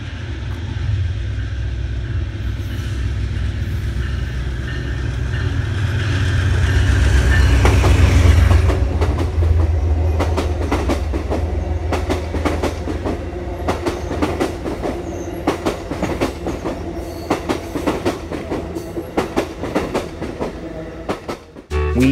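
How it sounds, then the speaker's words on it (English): An Amtrak Pennsylvanian passenger train emerges from the Gallitzin Tunnels, starting as a loud low rumble that swells and then gives way to steady, rhythmic clickety-clack of wheels over rail joints as the cars pass close by. "Unknown to me was that the Amtrak Pennsylvania would actually be coming out of the tunnels."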